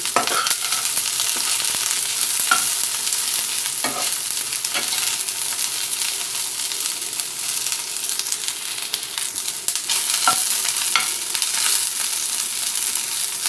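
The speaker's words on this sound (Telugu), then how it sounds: "ఇప్పుడు వంకాయ ముక్కలు వేసేస్తాం వీటిని కొంచెం సేపు మగ్గనిద్దాం" Eggplant pieces frying in a pan after the onions have browned, with a constant sizzle under repeated scrapes and knocks of stirring, fairly loud and close, with no talking.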